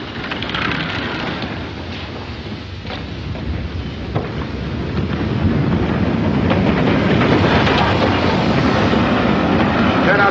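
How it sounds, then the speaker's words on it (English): A train draws into a station with loud, steady rumbling and clickety-clack of wheels on rails, swelling louder toward the end, in a 1941 film scene. "The train's coming in."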